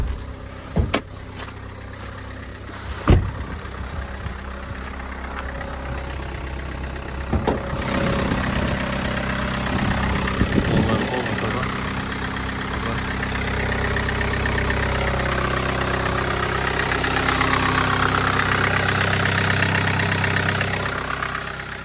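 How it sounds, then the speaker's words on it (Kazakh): A 2.0-litre diesel engine of a four-wheel-drive Kia Sorento idles on a cold start, a steady close rumble with a few sharp knocks early on and a slight rise in level toward the end, no talking. "Машина сейчас на холодном запуске."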